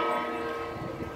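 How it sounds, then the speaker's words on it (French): A cathedral bell rings out in a single sustained toll, its resonant hum fading slowly and evenly over a brief moment. "la cloche sonne. C'est un signe. Voilà, ça c'est la cathédrale."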